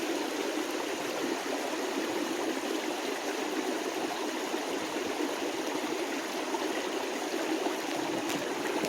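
A steady rush of water tumbling over a small falls, constant and fairly close, with no voices.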